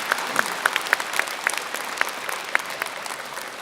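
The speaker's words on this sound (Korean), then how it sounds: "큰 박수 부탁드립니다." Applause from the audience at a Buddhist Enlightenment Day dharma assembly in Busan, a steady patter of many hands clapping with sharper individual claps standing out, moderately near and continuous, no talking over it.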